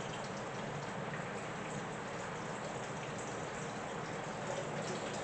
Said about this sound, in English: I think we got more water coming.